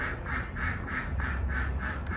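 Ducks quack in a steady run of about eight evenly spaced calls, loud and close, with a faint outdoor hum beneath and no talking.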